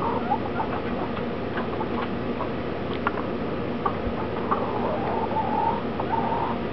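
Chickens clucking and cooing amid steady background noise, a few short calls scattered through.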